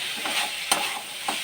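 Chicken ghugni with potato and peas sautéed in a pan, a close, steady sizzle with a few distinct scraping stirs of a spatula.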